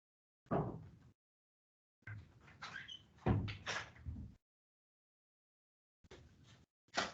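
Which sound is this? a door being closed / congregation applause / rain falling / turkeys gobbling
a door being closed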